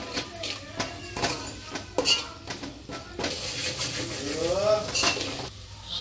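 Ginger garlic paste is stirred in a pan while cooking aloo poha, a metal spoon scraping and clinking against the pan in irregular strokes with a faint sizzle underneath.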